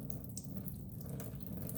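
Water being poured off tomato seeds settled in a cup, a steady close trickle and splash running continuously throughout.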